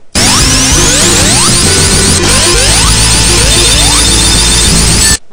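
Dense, loud Sonic the Hedgehog 2 game audio: layered music with repeating swooping electronic effects and constant busy sound throughout, no talking.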